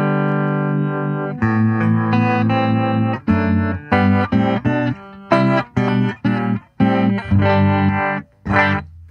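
Electric guitar played through a Fender Pano Verb amp with reverb: a long ringing chord, then a string of short, punchy chords with reverb tails between them, loud and close.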